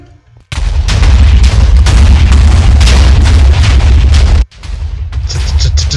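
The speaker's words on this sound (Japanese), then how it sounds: "ここにオーバーヒート打てば爆発で結構ダメージいくんじゃない？" Large explosion from an Overheat attack in a Minecraft One Piece mod, a loud sustained booming roar lasting about four seconds, cutting off briefly before another rumbling blast continues.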